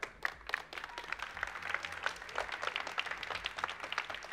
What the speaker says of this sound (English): special thanks and round of applause while you're voting to Molly